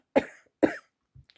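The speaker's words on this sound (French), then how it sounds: "je vais essayer de pas trop vous tousser dans le nez" A tired woman gives two sharp, close coughs in quick succession, then a faint throat sound in a quiet room.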